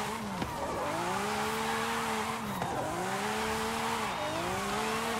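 A fully upgraded Lamborghini SVJ on a stock drift tune in the racing game Forza Horizon 5 howls loudly and steadily, its engine pitch rising and dipping through gear shifts as tires squeal through continuous drifts.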